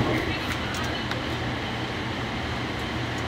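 An AirTrain JFK car runs along the Jamaica loop, a steady rumbling ride noise from inside the car with faint high rattles and squeaks and no clear speech.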